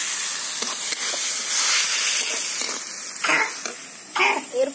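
Water added to a pan of fried spice paste while cooking okra with mustard sizzles and hisses loudly, a broad steady steam hiss with a few brief crackling bursts and no talking.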